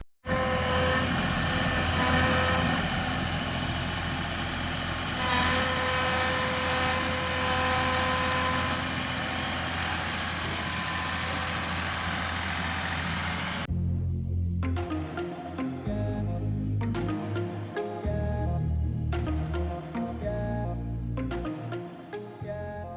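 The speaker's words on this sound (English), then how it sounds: "That tractor should be able to lift the shed, no problem" A tractor lifting and dragging a hunt camp shed: a steady loud engine drone for about fourteen seconds, then choppy bursts of revving, clunks and scraping as the load shifts and moves.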